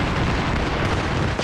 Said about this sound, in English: Hopefully these mortars don't come in right on my head.